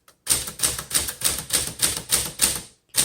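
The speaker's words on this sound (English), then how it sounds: "let's keep typing" Typing on a 1949 Smith Corona Sterling typewriter: a steady run of close, crisp key strikes, each with a bright metallic snap, about three strikes per second after a brief silence.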